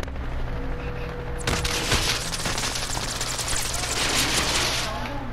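Rapid automatic gunfire from a Call of Duty: Modern Warfare match, with dense bursts and sustained fusillades from about a second and a half on, loud and fairly close over an ongoing game background.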